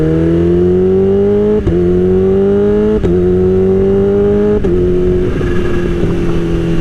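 A Kawasaki Ninja H2 motorcycle accelerates hard, its engine tone climbing steadily through three quick-shifter upshifts, each marked by a sharp instant cut and pop before the pitch rises again; loud, close and continuous, with no talk.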